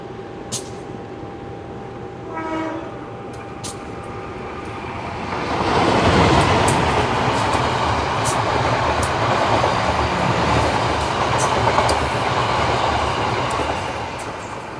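A passenger train rumbles past close by as the two trains cross, its roar swelling suddenly and holding loud and steady as the carriages roll along the rails.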